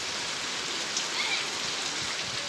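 Steady rain falls over flooded streets in Manaus, a dense, even hiss of drops on wet surfaces running without a break and with no voices over it.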